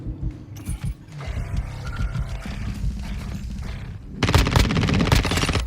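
Rapid automatic gunfire from an ISO 9mm submachine gun in Call of Duty Modern Warfare II, with dense close bursts that start sparse and build into a loud, sustained stream of shots near the end, backed by mechanical clatter.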